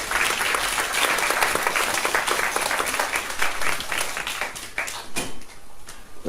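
An audience bursts into steady, dense applause at a Ho'oponopono and Aloha gathering, sustained clapping for several seconds with a slight dip and swell toward the end.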